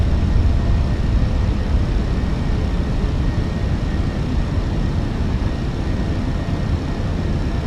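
A Fenix A321 airliner climbs out of Gatwick in Microsoft Flight Simulator 2020, its engines a loud, steady broadband roar with deep rumble that holds constant throughout, with no voices.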